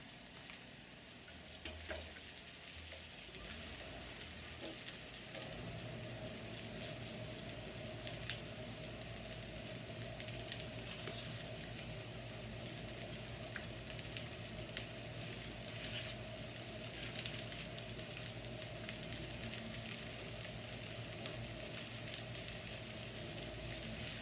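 Onions and cabbage stir-fry in a pan for vegan pancit, a Filipino rice noodle dish. A quiet, steady sizzle runs throughout with occasional faint stirring scrapes and no speech.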